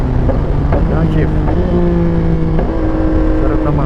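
A 2022 Yamaha Tracer 9 GT motorcycle engine rising and dropping in pitch through quick downshifts while riding, loud and close over wind noise, with a rider speaking over it.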